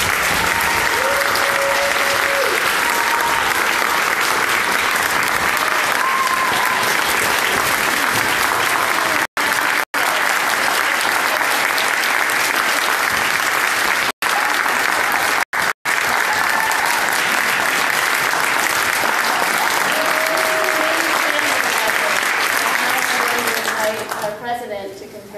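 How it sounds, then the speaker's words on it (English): Sustained, loud applause fills a graduation ceremony hall, steady dense clapping from a large audience that continues unbroken for a long stretch before fading at the end. "Can we just give a round of applause?"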